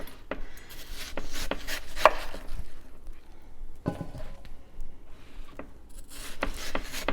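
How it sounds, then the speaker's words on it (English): Knife peeling and slicing the rind off a watermelon on a large cutting board, giving scraping, rubbing strokes with soft thuds and brief taps, close and steady over several seconds. "I'm just going to peel the watermelon with my knife"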